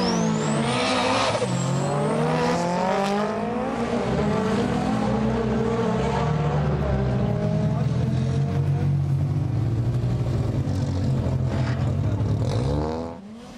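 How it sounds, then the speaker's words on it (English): A drag racing car bogs down at the launch and then revs hard to catch up, its engine note climbing and roaring continuously at close range at a 2001 HKS street drag event at T.I. Circuit in Japan. "if you bog down on the line, you have to play catch-up, like this"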